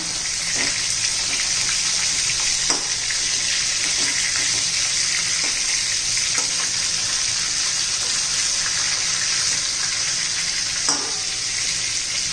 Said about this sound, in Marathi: तेलामध्ये असं परतून घ्यायचं जरा.